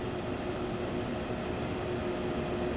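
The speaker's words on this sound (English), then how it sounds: "That'll be the train then." A double-decker passenger train pulls in at a station in the Train Sim World 2 game on the Main Spessart line, a steady loud rumbling drone with no talk.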